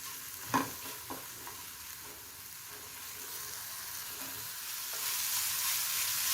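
Masala with a little coriander roasting in a pan for matar paneer, soft sizzling under a few scraping stirs with a spatula, quiet and close, with the frying hiss growing toward the end.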